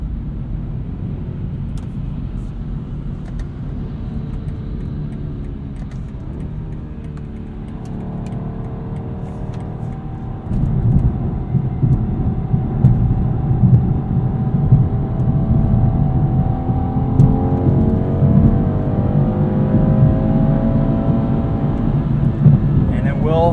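A 2022 BMW 230i Coupe's four-cylinder engine pulls hard through the gears, its tone climbing under acceleration as road and cabin noise build, loud and close from inside the car.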